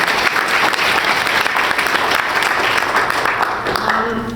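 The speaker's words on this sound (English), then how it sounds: "just give everyone a round of applause" A crowd applauds steadily, a dense wash of clapping from many hands that holds for several seconds before beginning to taper.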